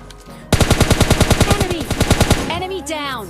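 A rapid burst of automatic gunfire in PUBG Lite, about twenty evenly spaced close, loud shots in quick rhythm before it stops abruptly, with a brief voice fragment at the end.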